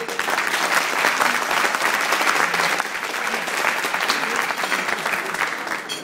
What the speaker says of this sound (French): je voudrais des applaudissements, s'il vous plaît